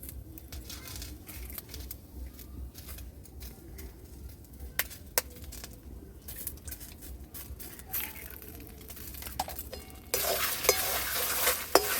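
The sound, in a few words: stirring eggs into lentils and potatoes in a pan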